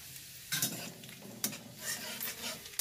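Garlic frying in hot oil, sizzling steadily while a spatula stirs and scrapes the pan in a few louder bursts, close by with no talk.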